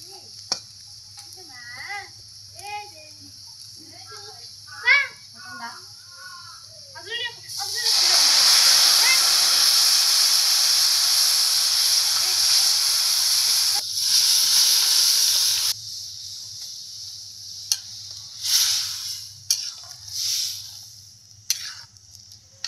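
Vegetables hit hot oil with a sudden loud hiss that sizzles steadily for several seconds, then settles into crackling and stirring, with talking before it.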